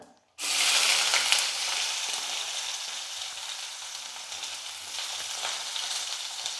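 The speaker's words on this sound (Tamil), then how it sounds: "ஒரு ரெண்டு வெங்காயம் கொஞ்சம் சின்ன சின்னதாக வாக்கல் கட் பண்ணிக்கிட்டால் அதை சேர்த்துக்கிறேன்" Chopped onions hit a hot frying pan with fennel, setting off a sudden loud sizzle that then settles into a steady, close hiss with faint stirring scrapes.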